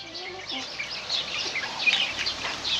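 Soft, high chirping of chicks fills the clip, with a few low clucks from a broody hen underneath, fairly quiet and continuous, as the hen and chicks are let out into a run.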